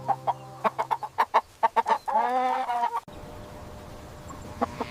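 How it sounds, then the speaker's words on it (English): Rooster clucking in a quick series of short, close, punchy calls, then a loud, drawn-out crow, followed by quieter background noise. "This is a rooster."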